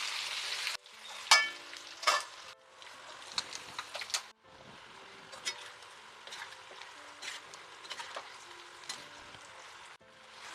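Chicken pieces frying and roasting in an oil pan in an Indian home kitchen, steady sizzling with stirring scrapes and clatters of a spoon against the pan, close and continuous.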